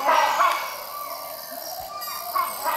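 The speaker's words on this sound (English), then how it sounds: "You have this hornbill, big bird." A large hornbill calling in a tropical rainforest, a few loud honking calls at the start and again near the end over a dense background of forest insects and birds.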